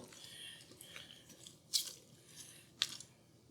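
A spoon stirs chicken fricassee in a pot with soft, faint scraping, broken by two sharp metallic clinks against the side.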